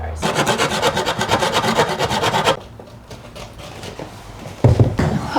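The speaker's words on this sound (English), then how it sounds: "That needs to be sanded down." Sanding a wooden baseboard during a new baseboard install in an old Maine house: a loud, steady rasping rub with fast back-and-forth strokes for about two and a half seconds, then quieter handling scrapes and a short burst of rubbing near the end.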